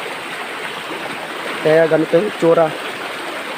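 A small forest stream rushes and flows in a steady, continuous wash, with a voice briefly speaking over it midway.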